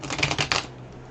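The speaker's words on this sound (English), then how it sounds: "So we're going to give these one more little shuffle here." A quick riffle of cards shuffling, a short burst of crisp flicking that fades out within a second.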